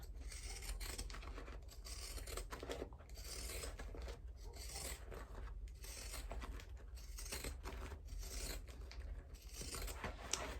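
Scissors trimming fabric seam allowances on a sewn crossbody bag, continuous soft snipping and rasping cuts, close and quiet, with no talk.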